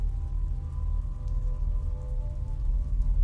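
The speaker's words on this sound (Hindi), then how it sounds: "बाहर तेज हवा चल रही थी और बारिश की बूंदें खिड़की से टकरा रही थी" Rain patters steadily against a window on a cold, wet November morning, a dense continuous hiss of drops with a low windy rumble underneath, close and even throughout.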